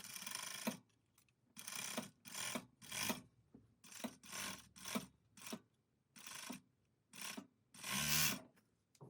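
A sewing machine or serger stitches the shoulder seams of a hoodie in repeated short bursts of rapid mechanical whirring separated by brief pauses, close and fairly quiet.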